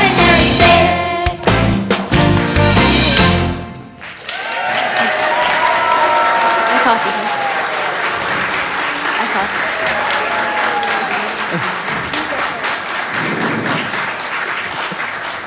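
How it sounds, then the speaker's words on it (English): A church audience applauds children after their play, with a dense, sustained burst of clapping and some cheering that follows a brief stretch of music, continuing loudly and steadily for the rest of the clip. "I guess you can give them another round of applause if you want."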